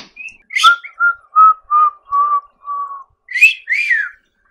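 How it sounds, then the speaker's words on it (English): A person whistles a short melodic run of clear, separate notes, rising and falling, close by with no talking. "Who can whistle the best?"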